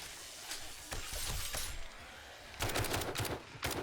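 Zombie horde smashing apart a base pillar in a survival video game, a string of sharp crashing and shattering impacts, sparse at first, then a dense, louder burst of rapid cracking blows near the end, with no talk.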